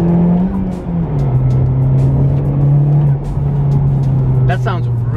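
A Honda Civic Type R engine pulls in third gear in sport mode, a loud steady drone that dips briefly and holds high, heard from inside the car without talk.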